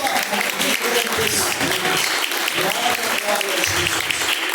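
Applause from a congregation at a Portuguese-language evangelical church service, dense and continuous clapping filling the room for several seconds.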